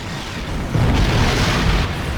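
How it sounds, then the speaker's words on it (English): Heavy booming weapon fire from heralds strikes a time portal in Star Trek Online, a loud rumbling blast that swells and rolls on for about two seconds. "The heralds are firing on the portal!"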